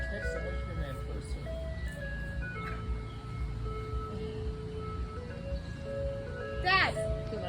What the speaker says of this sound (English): Chase down the ice cream truck!